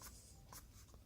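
Colour pencil strokes scratching across paper while shading around a white swan drawing, soft repeated scribbling bursts close to the microphone in a quiet room.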